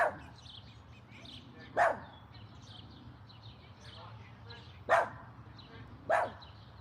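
A dog barks in four short, sharp bursts spaced a few seconds apart, heard at moderate distance over a low steady background hum.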